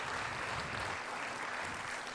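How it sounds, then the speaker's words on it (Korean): Steady applause from a church congregation during a Sunday service honoring the children's, youth and young adults' education departments, a dense continuous clapping that fills the room without pause. "함께 격려의 박수 부탁드리겠습니다"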